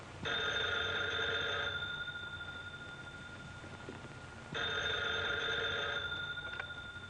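An old 1940s telephone bell rings in two long bursts with a pause between, clear and fairly close in a quiet room.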